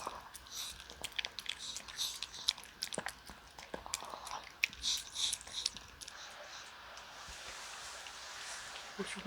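A dog chewing and biting its food at a winter campsite in a forest, with repeated close crunching and mouthing sounds in an irregular rhythm and a low background hiss.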